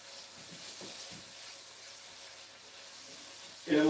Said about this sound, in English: We got potatoes. Kind of slowly frying, not at high heat, but at lower heat.